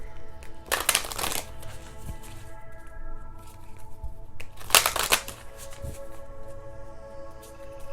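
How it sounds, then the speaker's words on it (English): Tarot cards being shuffled, two distinct riffling bursts a few seconds apart with soft handling sounds between, close and fairly quiet, no talk. "do 3 more shuffles"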